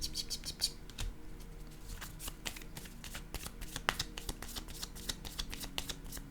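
Tarot cards are shuffled in quick, dry riffling bursts and set down with soft taps, close and quiet, with no talking.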